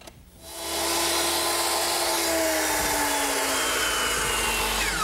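A power saw cuts across the top of a 2x4 wood standard for a canopy frame, starting after a brief quiet moment and running as a loud, steady, continuous whine with a slight pitch drift.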